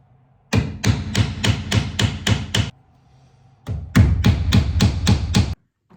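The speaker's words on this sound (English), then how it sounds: "now instead of nailing the trim directly to this piece of wood, I'll nail it to this piece of wood" A hammer drives nails into wooden trim in two quick bursts of about eight sharp, evenly spaced blows each, separated by a short pause, close and loud with a hollow wooden knock.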